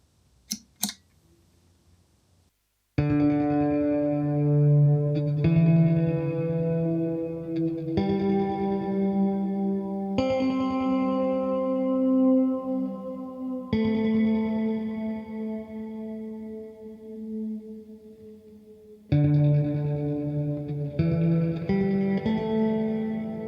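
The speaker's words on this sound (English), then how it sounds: "let's have a listen to preset 4, Abyss" A ZOIA effects pedal running preset 4, Abyss, turns plain input into lush sustained chords smeared with chorus, echo and deep reverb, each new chord swelling in over the decaying tail of the last.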